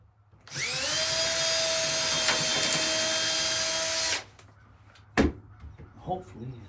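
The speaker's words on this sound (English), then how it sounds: "Drill a hole in there." A power drill bores a hole for an old-fashioned hinge, a steady high whine lasting about four seconds, then it stops and a couple of short knocks follow, close by.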